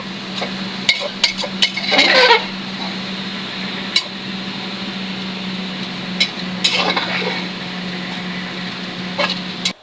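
Dal being stirred in a cooking pot on a home stove, with a few scattered scrapes and clinks of the spoon against the metal over a steady low hum, loudest early on and again briefly later.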